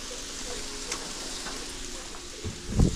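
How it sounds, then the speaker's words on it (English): Pork browning in a hot pan, a close continuous sizzle with faint crackles and a louder scrape or stir just before the end. "We're probably browning on one side, I would think."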